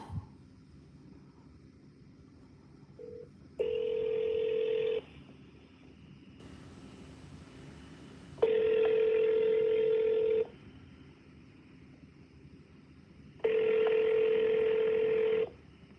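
A telephone dials a call to a bank: a steady dial tone sits under three loud, sustained tone bursts, each one clear and alone against faint background hiss.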